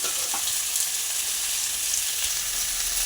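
Tapioca masala with crushed garlic sautéing in a pan makes a dense, steady sizzle close by, with a faint stirring scrape early on and no voices.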